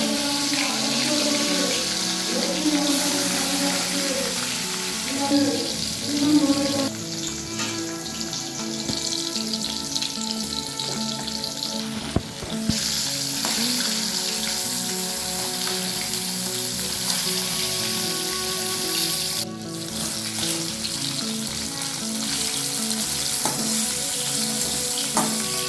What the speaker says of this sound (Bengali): মাছগুলো লাল লাল করে ভেজে নিয়েছি